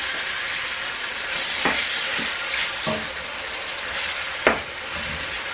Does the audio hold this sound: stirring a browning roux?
yes